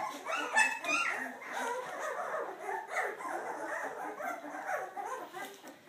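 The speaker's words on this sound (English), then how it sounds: "angry puppies right now" A litter of young Vizsla puppies whimpering and yipping hungrily for milk, a continuous close chorus of high whines and squeaks.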